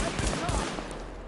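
Rapid gunfire in Tom Clancy's The Division: a quick burst of close, sharp shots with a voice speaking over it.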